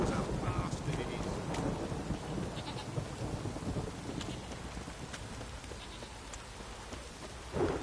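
Torrential rain and thunder in the video game Witcher 3: a dense, steady roar of rain with deep rumbling thunder rolling underneath and a louder burst near the end.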